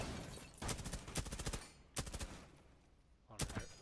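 Rainbow Six Siege Terrorist Hunt gunfire comes as several loud bursts of rapid automatic shots separated by brief pauses, sharp and close, with a quieter echoing tail after each burst.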